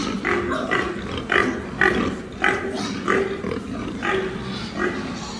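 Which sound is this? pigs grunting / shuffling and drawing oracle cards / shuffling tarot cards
pigs grunting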